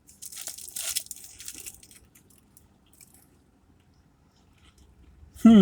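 A crunchy bite into a Big Boy fried chicken cordon bleu sandwich with ham, Swiss cheese and ciabatta bread, heard close as a short run of crisp crackling crunches that fades into quiet chewing.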